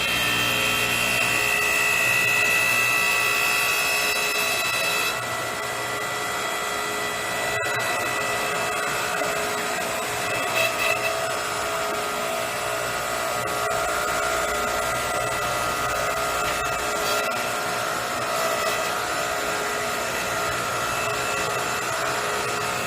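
A hydraulic log splitter works on firewood, giving a continuous loud motorized whine with steady tonal hum that shifts slightly partway through, with no talking over it.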